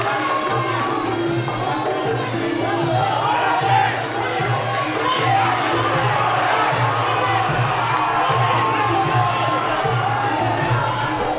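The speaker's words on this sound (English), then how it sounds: "The crowd are coming alive" Crowd noise at a Muay Thai fight, a dense continuous roar of cheering and shouting that stays loud and steady throughout, with no clear pauses.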